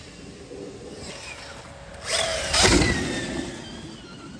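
Stark Varg electric motocross bike ridden at full 80 horsepower, a rising high-pitched electric motor whine that swells and sweeps as the bike passes, heard over wind and ground noise.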